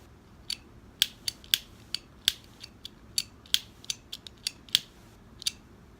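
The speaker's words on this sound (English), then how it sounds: "Every fourth or fifth click, you know, I mean, that's not a very dependable lighter." A butane lighter clicks repeatedly in an uneven rhythm, about fifteen sharp dry snaps close to the mic in a quiet room, with no flame catching.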